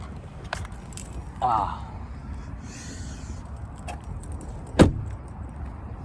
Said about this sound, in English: I got my keys. Here they go.